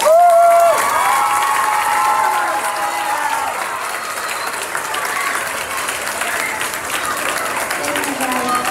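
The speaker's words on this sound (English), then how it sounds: "So can we have a big round of applause?" Families and students applaud at a fifth grade award ceremony, a loud sustained wash of clapping with scattered children's shouts and voices that settles slightly but continues throughout.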